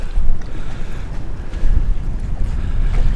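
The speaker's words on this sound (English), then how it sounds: "And we're getting some wind from the north" Steady wind buffets a sailboat riding at anchor in a rolling Bahamas anchorage, a loud, low rushing roar with gusty swells and no voices.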